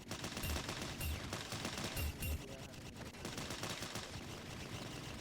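Video game gunfire crackles in quick repeated bursts with thumping low hits, dense and continuous under a busy game soundscape.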